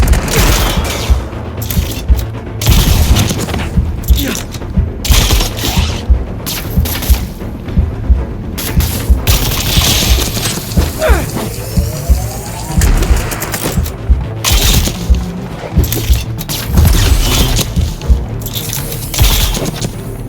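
Gunfire in Marvel's Spider-Man 2: repeated bursts of automatic fire and heavy booming impacts at a loud, uneven rhythm, with mechanical clatter and a short swooping sweep partway through.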